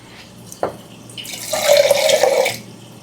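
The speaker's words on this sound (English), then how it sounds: "Add some water" Water pours from a tap into a pot of meatball sauce made with crushed tomato and salt, a brief clink followed by a loud, close splashing stream lasting about a second before stopping.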